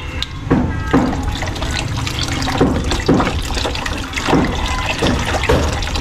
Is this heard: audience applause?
no